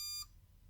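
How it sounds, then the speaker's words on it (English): A key programmer gives a single short electronic beep, a clear harmonic tone that cuts off quickly, confirming that keys for a Ford Transit have been programmed. "you'll hear the beeps to say we've got"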